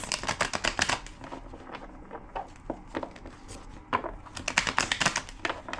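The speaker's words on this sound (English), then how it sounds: "2 more shuffles." A deck of tarot cards is shuffled by hand in quick riffling bursts, close and crisp, with a brief pause in the middle before more rapid fluttering shuffles.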